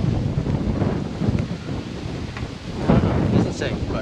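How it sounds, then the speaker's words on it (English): Strong outdoor wind buffets the microphone, a loud, rumbling low roar that surges and eases for about four seconds, with no clear talk above it. "it's windy as shit right now"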